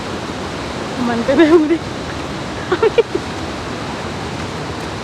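Water rushes steadily over a muddy mountain footpath on the Rasuwa road near the China border, a constant broadband roar under a man's short spoken remarks.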